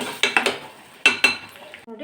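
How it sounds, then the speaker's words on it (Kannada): Ground tomato goes into a pan of curry-leaf tempering with a few sharp metallic clinks and scrapes of a spoon against the pan, close and brief, ending in a short sizzle. "ಹಾಗೆ ಈಗ ನಾನು ರುಬ್ಬಿರುವಂಥ ಟೊಮೊಟೊನ ಹಾಕ್ತಾಯಿದ್ದೀನಿ"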